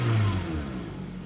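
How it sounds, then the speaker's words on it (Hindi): A car engine with a starting problem revs up as the accelerator is pressed, a brief loud mid-pitched roar that quickly settles toward idle. "एक्सीलेटर"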